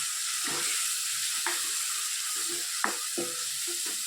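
Red chilli powder, coriander-cumin and asafoetida are stirred into a sizzling bottle gourd curry in a pan, with a steady hiss and several distinct scraping strokes of the spoon, close and moderately loud.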